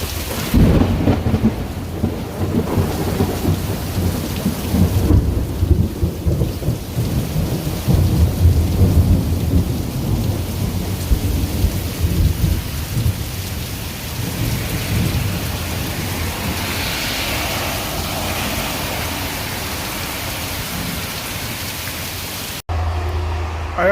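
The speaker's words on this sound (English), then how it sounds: "And there was another thunderstorm this past Sunday." Steady heavy rain pours throughout a thunderstorm in a home garden setting, with deep rolling thunder rumbling loudly in the first half and fading into continuous rain hiss.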